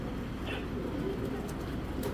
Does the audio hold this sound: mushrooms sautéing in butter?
no